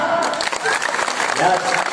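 Men in the audience clap at a Marathi kirtan devotional gathering, a dense, steady patter of applause running for the whole moment, with talk mixed in.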